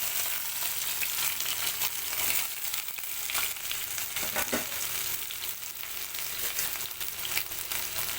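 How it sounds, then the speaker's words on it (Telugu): Onion, green chilli and a sprig of curry leaves fry in hot oil, a dense continuous sizzle close by with occasional stirring scrapes, and nobody speaks. "ముందుగా కట్ చేసి పెట్టుకున్న ఉల్లిగడ్డ పచ్చిమిర్చి ఒక రెమ్మ కరివేపాకు అయితే వేసుకుంటున్నాను"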